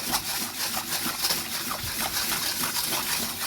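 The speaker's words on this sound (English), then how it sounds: "So now we're dissolving the sugar in the water." Water is poured and stirred to dissolve brown sugar for homemade bread, giving close splashing and sloshing with small irregular clinks.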